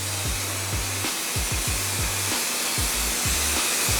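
Spray adhesive hissing steadily from an aerosol can onto car headliner board and fabric, a continuous close, loud hiss with a faint low rhythmic tapping underneath.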